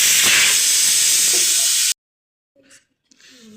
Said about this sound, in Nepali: अब मसला हालेर नि 1 सिटी लगाइदिनु पऱ्यो